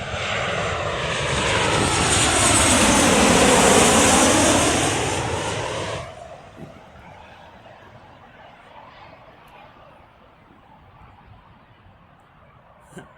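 A Ryanair Boeing 737 airliner passes overhead with a loud, swelling jet roar that peaks and then sweeps downward in pitch, cutting off abruptly to a fainter fading rumble with no talking.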